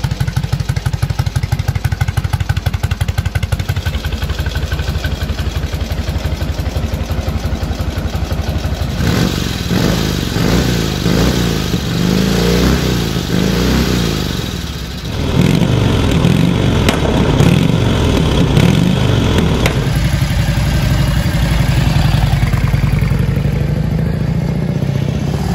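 Vintage Indian Chief motorcycle with a 1.2-litre V-twin engine producing 38 HP, running steadily and loud up close, with a rough, clattering idle that rises into heavier revving partway through.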